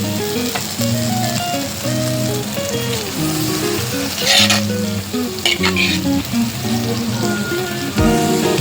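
Dry fish dropped into hot masala in a pan sizzles loudly and steadily, with a few sharper crackles and a clatter near the end, while background music plays and no one speaks.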